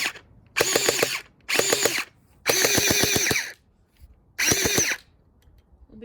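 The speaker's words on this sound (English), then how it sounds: "I'm gonna be shooting my tree because I don't have target up" Bursts of rapid automatic fire from an AKM47 gel blaster shot at a tree outdoors, four loud buzzing volleys of about a second each separated by short pauses, close to the microphone with no talking.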